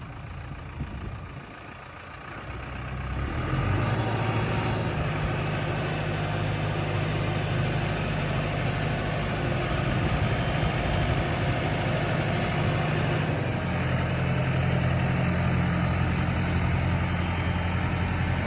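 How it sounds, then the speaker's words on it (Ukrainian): After a brief quiet start, a Basak 2110S tractor engine starts up and settles into a steady, loud idle, a low throbbing drone that continues to the end. "ось у нас власник сідає за трактор вже свій"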